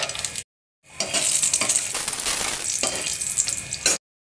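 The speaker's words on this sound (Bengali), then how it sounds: "এবার বড়ি ভেজে নিয়ে যাবো।" Lentil dumplings (bori) fry in hot oil for spinach chorchori, giving a loud, close, continuous crackling sizzle that breaks off briefly near the start and then resumes.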